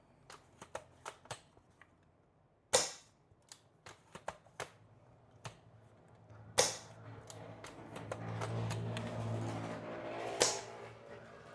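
A quiet airsoft sniper rifle fires three soft, sharp snaps spaced several seconds apart, surrounded by many faint mechanical clicks and light handling taps, with a low hum creeping in near the end.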